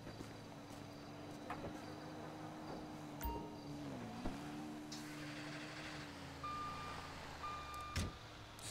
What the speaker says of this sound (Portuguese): Eu vou tirar o caminhão daqui pra ficar mais fácil pra gente poder passar.